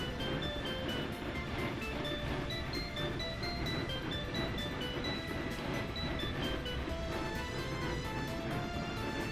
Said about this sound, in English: it's definitely not the quickest train engine in the galaxy